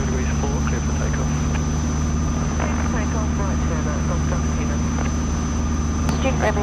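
A light aircraft engine drones steadily at takeoff, a constant low hum with a faint high tone running throughout, while radio voices talk over it.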